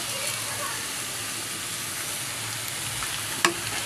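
Boiled potatoes frying in hot oil in a pan give a steady, close sizzle throughout, with one brief sharp clink near the end.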